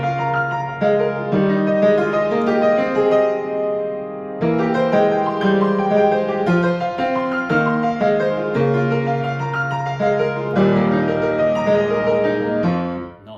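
Piano playing the melody of a theme from Kingdom Hearts in an even, mechanical way, a steady flow of chords and melody notes with brief breaks between phrases, close and alone.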